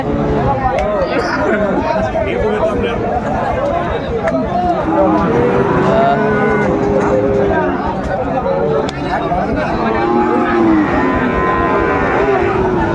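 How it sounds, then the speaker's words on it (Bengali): A Sahiwal bull calf mooing at a busy cattle market, calls rising through constant loud crowd chatter and people talking nearby. "এখানে চমৎকার একটি গরু দেখাশোনা চলছে, শাহিওয়ালের ষাঁড় বাচ্চা"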